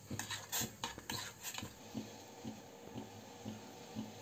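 A spoon stirs coffee in a cup, clinking against the sides in a run of sharp taps that settles into a regular, quieter rhythm, close and fairly faint.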